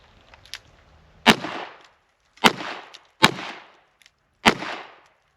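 Four sharp, loud gunshots from revolvers fired from the hip, spaced unevenly about a second apart, each with a short ringing decay, no talking.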